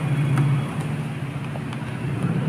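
A Euro Motor Rapido 110 underbone motorcycle engine runs close by with a steady, even low rumble and no distinct surges.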